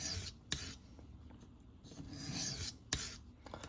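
A knife is drawn across a sharpening stone in slow rasping strokes, close and quiet, with a couple of sharper scrapes and short pauses between passes.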